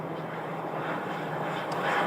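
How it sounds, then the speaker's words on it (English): A Frontier Airbus parked at its gate at Phoenix Sky Harbor airport has its auxiliary power unit running, a steady, unbroken roaring drone that holds at an even level throughout. "the background noise is coming from the Frontier Airbus that's parked at their gate"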